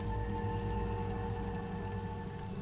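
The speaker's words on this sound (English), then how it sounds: "today it's cloudy, raining, and the wind is blowing" Steady rain falls outdoors on a cloudy, windy day, a faint continuous patter with a low hum underneath and no voices.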